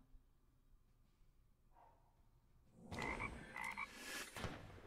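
Cartoonish frog croaks from a digital card game as a unit is transformed into a frog, a few bright croaking bursts rising loud out of quiet background in the latter half.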